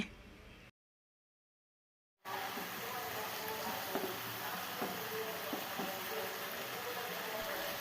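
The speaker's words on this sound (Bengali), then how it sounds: "এখন এটাকে নেড়ে চেড়ে নিচ্ছি" Cleaned dates are stirred in a pan with spices to make a sweet, sour and spicy date pickle. A steady sizzle with light scraping taps runs throughout, apart from a brief dropout of silence near the start.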